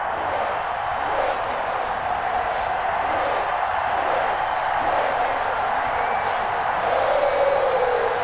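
The stadium crowd at a Cleveland Browns versus Cincinnati Bengals game in an EA Sports football video game makes a steady, dense roar of cheering and murmur. The noise holds at an even level and swells slightly near the end.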